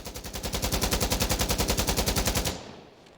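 An Alpha AK (AK-104) firing full-auto in Insurgency Sandstorm: a close, loud, rapid burst of roughly two dozen evenly spaced shots lasting about two and a half seconds, then a short fading echo.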